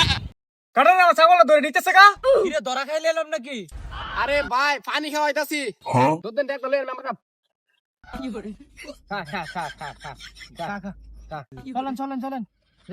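A goat bleats loudly and close by in repeated long, wavering calls, with short pauses between them and people's voices mixed in among the cries.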